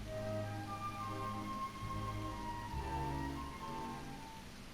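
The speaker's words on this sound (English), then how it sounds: "The rain continued until dawn, the start of a new day." Rain falls steadily in the video game Dragon Quest 8, a soft continuous patter beneath sustained musical tones, with no voices.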